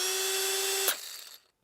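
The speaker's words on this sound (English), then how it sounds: "Milwaukee has a more of a precise sound. The gears sound better." A Milwaukee cordless drill runs at speed with a steady whine, then stops abruptly with a click and spins down into silence, close and alone.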